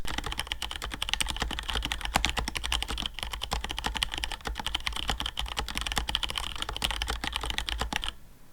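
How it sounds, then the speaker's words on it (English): Rapid, steady clatter of a mechanical keyboard with Cherry MX Red switches, dense and close, with a smooth, muted click to each press; typing stops abruptly near the end. "the typing experience with the Cherry MX Reds that I opted for is really smooth"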